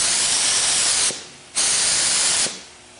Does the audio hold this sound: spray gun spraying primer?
yes